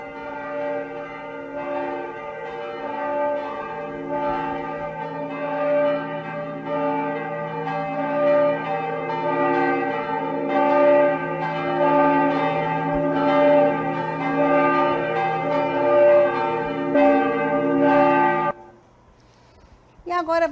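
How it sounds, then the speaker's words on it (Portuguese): A church bell rings steadily with long, sustained resonant tones and rich overtones for about eighteen seconds, then stops abruptly, leaving a brief quiet tail. "E agora a gente vai dar um exemplo de som longo, que é o soar de um sino."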